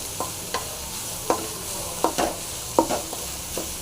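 Chopped onion frying in hot oil in a pan for a prawn dry fish gravy, with a steady sizzle broken by about eight sharp spatula scrapes and stirs at an uneven rhythm, close up.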